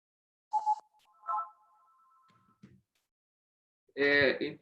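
A telephone rings in a home office with a short electronic tone pattern, repeating twice with a pause between. A voice speaks right after the ringing stops.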